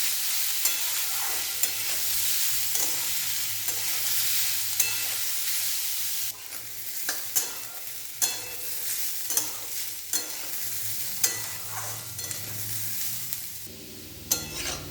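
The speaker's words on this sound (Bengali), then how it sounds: "জোর আঁচে অনেকক্ষণ এই বিটগুলোকে নাড়াচাড়া করে নেব।" Beetroot stirred and fried in a pan over high heat, a steady sizzle broken by repeated scraping strokes of the spatula, close and clear with no talking.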